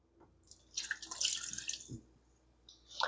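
About a cup of water poured into a cooking pan while making brown gravy, giving a close, splashy trickle with dripping bursts that start and stop over a few seconds.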